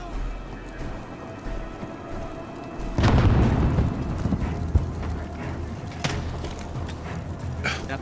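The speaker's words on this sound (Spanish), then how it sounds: "Granada al frente." A grenade blast in Call of Duty Modern Warfare, a sharp loud burst followed by a rumbling tail, with scattered gunshots and battlefield noise around it and someone speaking.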